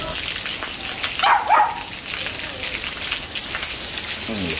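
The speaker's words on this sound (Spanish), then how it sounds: "cayendo un verdadero diluvio." A heavy rainstorm pours down in Los Angeles with a dense, constant hiss of falling water, close and loud, with a dog barking briefly in the middle.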